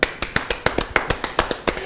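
A handful of sharp, separate claps on a studio talk and entertainment show, about ten hits in under two seconds, close and crisp with an uneven rhythm and no voices over them.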